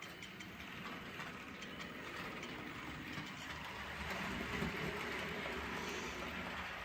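A model railway locomotive fitted with a new chip runs steadily along the track, giving a continuous close whirring rumble with rail noise that grows slightly louder toward the end, with no talking.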